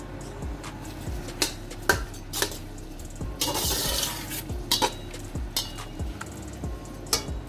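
A spoon stirs mutton pulao mixture in oil in a pot, giving repeated close metallic scrapes and clinks at a regular rhythm, with a short, louder sizzling rush partway through.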